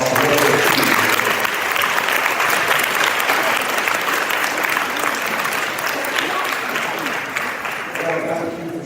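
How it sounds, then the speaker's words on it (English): Loud, sustained applause from a banquet audience at a fall athletic banquet in Bowling Green, steady dense clapping filling the room and tapering slightly toward the end. "let's give them a big round of applause for what they achieved."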